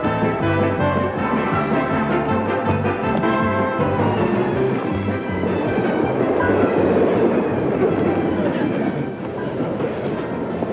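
Subway train riding along the rails, loud continuous rumble with rhythmic clickety-clack and a rising metallic whine, close and steady for the whole stretch, no talk over it.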